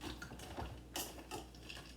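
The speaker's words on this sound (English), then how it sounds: "I'm chopping up almonds." A knife chops almonds on a cutting board for a snack recipe, producing a steady run of dull, crunchy knocks with a few sharper, louder strikes close by.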